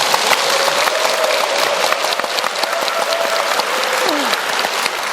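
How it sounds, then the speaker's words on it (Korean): Church congregation applauding to encourage deacons about to give testimony, a bright, continuous burst of clapping, close and loud, with scattered sharp individual claps and faint voices underneath. "한번 우리 박수로 한번 격려해 드릴까요?"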